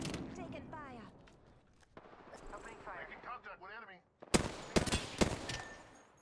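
Gunfire from a video game cracks in several loud bursts near the end, after a stretch of talking mixed with game sounds.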